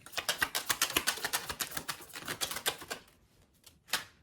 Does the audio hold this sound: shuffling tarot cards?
yes